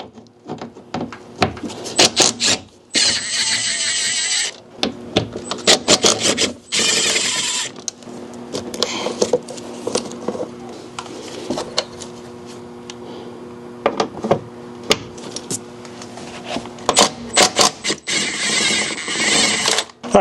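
T30 bolts come out of a Fisker Ocean side mirror with a driving tool, which makes repeated near bursts of grinding, rasping tool noise with short gaps, over about twenty seconds.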